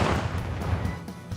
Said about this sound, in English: squealed with delight at the sound of cannon fire